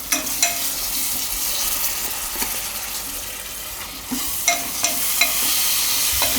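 Washed rice tipped into a hot pan for a Gujarati chhaas bhaat, giving a loud, steady frying sizzle with several quick clatters and scrapes of stirring, no voices.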